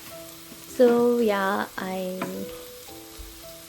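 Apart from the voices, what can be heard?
eggs frying and being stirred in a pan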